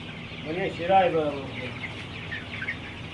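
Chickens of a high egg-laying breed cluck nearby in a short burst of calls, with a person talking over the poultry.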